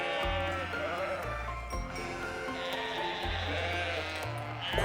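Several sheep bleat in the video game Love and Deepspace, a series of drawn-out, wavering bleats overlapping one after another, fairly close and clear over a soft musical background.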